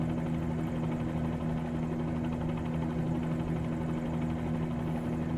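Steady, close rotor and engine drone inside a Bell 47G helicopter in flight over Long Beach as it slows down, a constant loud hum with strong low harmonics and no speech.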